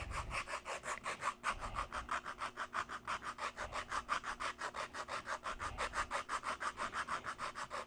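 Wood being sanded smooth by hand, a steady rapid back-and-forth rasping rhythm of dozens of even strokes, close and fairly quiet, with no talking.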